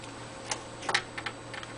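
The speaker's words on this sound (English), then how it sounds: "From far back or close up, you can type whatever you want" Typing on an iOne Scorpius P20MT wireless keyboard: a handful of light, irregular key clicks, close and quiet over a low steady hum, with no talk.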